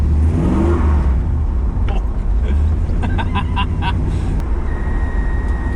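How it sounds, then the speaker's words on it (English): SBC 400 V8 pickup drift truck with an empty bed, engine revving and whirring loudly near by as the tires spin, with someone talking over the noise. "I was just spinning tire the whole time"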